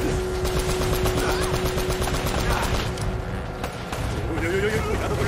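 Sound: machine gun fire from the video game Uncharted: Drake's Fortune

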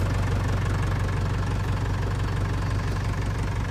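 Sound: Cobey dump truck engine raising Cherokee hoist bed

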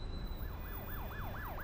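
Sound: police patrol car siren, The Precinct video game

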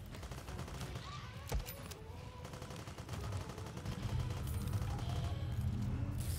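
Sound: gun turret firing, From Space video game

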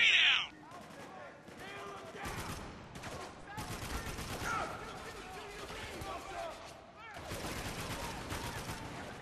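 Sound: heavy gunfire in the video game Spec Ops

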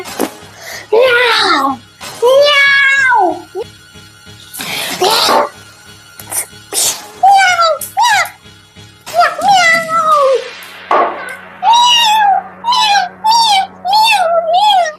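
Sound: person imitating a cat meowing

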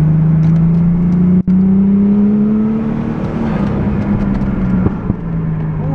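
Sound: Toyota Supra engine revving and backfiring

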